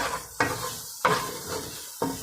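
Fish frying in a pan with onions, a steady close sizzle broken by three sharp stirring or scraping bursts at regular intervals.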